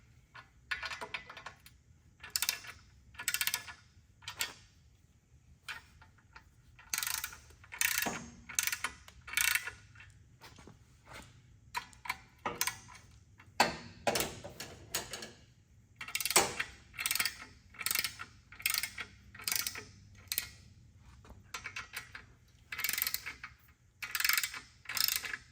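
Ratchet tightening bolts on a G56 manual transmission being installed, rapid bursts of close clicking repeated around each bolt with brief pauses, fairly quiet, no talk.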